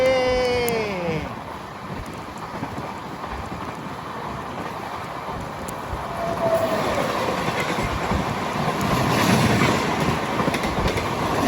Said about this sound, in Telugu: Pinakini super fast express.